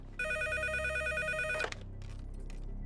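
A telephone rings in a seth's house in a Hindi-dubbed film scene: a steady electronic ring tone holds for about a second and a half, then cuts off with a click, leaving faint room noise.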